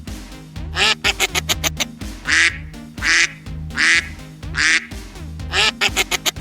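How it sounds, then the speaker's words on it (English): A duck quacks repeatedly at close range, loud raspy calls arriving singly and in quick bursts of several with short gaps between them. "This is a duck."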